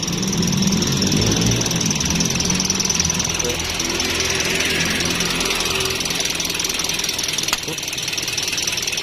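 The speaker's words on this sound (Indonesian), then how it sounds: "Mesinnya seperti ini ya, masih halus, mesinnya halus, kering, masih enak ya" A 2018 Daihatsu Sigra X engine runs at a steady idle with the hood open, a continuous close mechanical hum and clatter with a person talking over it throughout.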